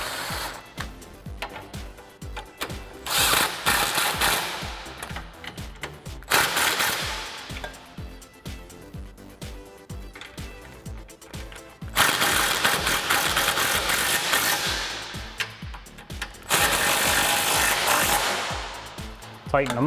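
A socket wrench with a 15mm swivel driving sway bar bolts on a 2008-2022 Dodge Challenger during an Eibach anti-roll bar install, heard as several loud, sustained rattling runs separated by quieter pauses, with someone talking between.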